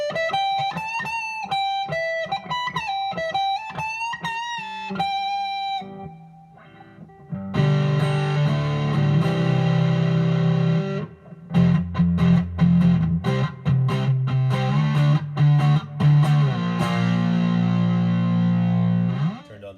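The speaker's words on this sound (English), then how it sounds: "And the full humbucker. It really sings with overdrive." A 1995 Fender FSR Fat Telecaster played through its humbucker with overdrive, starting with a sustained singing melodic lead, then a brief pause before thick distorted chords and riffs ring out loud, with no talking.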